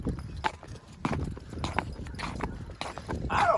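Draft horses walking in winter while hauling hay, hooves clip-clopping in an uneven close rhythm, with a brief whinny-like sound near the end.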